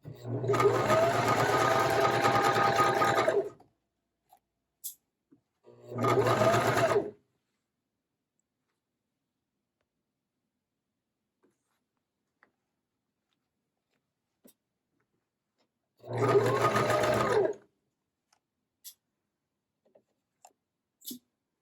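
A sewing machine stitches a lined zipper pouch in three distinct runs, a long burst, a short one, then another after a long pause, each a loud close whirring hum, with faint clicks between.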